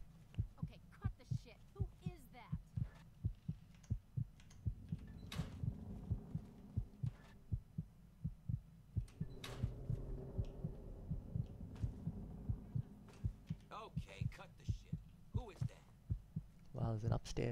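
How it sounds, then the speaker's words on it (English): A heartbeat in the video game Fallout 3 thumps in a steady, low rhythm beneath a humming background, with occasional clicks and movement noises layered over the continuous pulse. "What's with the heartbeat?"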